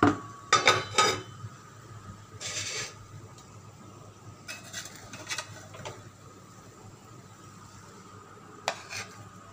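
Cooked tahari rice is scooped from the pot into a serving dish, with a quick cluster of utensil clinks and scrapes at the start and a few sparser clatters over a quiet kitchen background.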